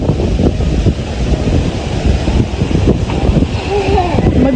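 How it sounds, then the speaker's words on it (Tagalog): Strong wind blows through a home yard where mango trees grow, roaring and buffeting the microphone in continuous gusts with rustling throughout. "At grabe po malakas ng hangin"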